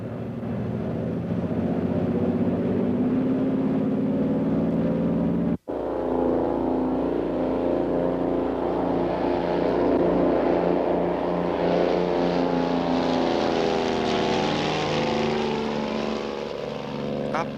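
A Twin Bonanza twin-engine airplane takes off from runway 25 left at Los Angeles, its propeller engines droning loud and steady for nearly twenty seconds and swelling as power builds, broken once by a sharp cut.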